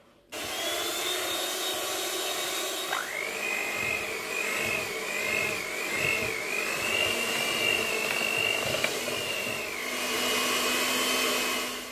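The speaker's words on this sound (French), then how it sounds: "à l'aide d'un batteur électrique, nous allons venir mélanger les ingrédients jusqu'à l'obtention d'une pâte homogène" An electric hand mixer whirs steadily through pita bread dough, its motor tone rising partway in and holding high before dropping back, close and loud throughout with no talking.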